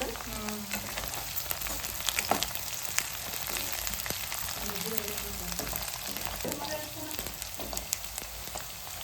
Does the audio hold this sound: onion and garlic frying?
yes